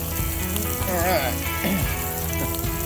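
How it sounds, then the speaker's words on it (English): Sausage browns in a hot pan, giving a steady close sizzle and crackle with a few brief tonal scrapes mixed in. "Sausage is good and brown now"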